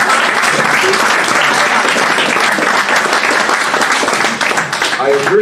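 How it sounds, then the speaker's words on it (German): Applause from an audience at a lecture in Darmstadt fills the room, a dense, steady wash of many hands clapping at close range, sustained loudly throughout with a slight dip near the end. "I appreciate your applause"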